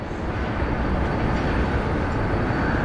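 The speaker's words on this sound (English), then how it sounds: "that's the Columbus, Ohio train" A steady, broad rumble of a CSX ethanol freight train led by locomotive 5466 rolling past nearby in Columbus, Ohio, continuous and unbroken for the whole stretch with no voices.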